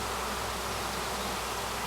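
A swarm of honeybees flies around a virgin queen in the open, a dense, continuous buzzing hum filling the air, steady and loud with no other sounds.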